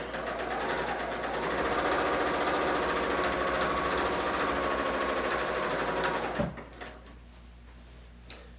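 A Bernina L890 cover stitch machine runs steadily for about six seconds hemming a pillowcase, a close, continuous mechanical whir, then stops, followed by a few faint clicks and a small knock in a quiet room.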